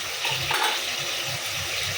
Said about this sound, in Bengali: আর এদিকে আলু ভাজা হচ্ছে।